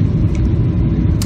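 Steady low cabin rumble inside a Boeing 737-800 landing in Melbourne, a loud, dense roar of engine and airflow noise running unbroken throughout, with no voices.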